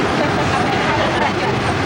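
A studio tour tram rolls along past Wild West sets, giving a steady, even rumble of wheels and motor noise with no distinct events, close and continuous throughout.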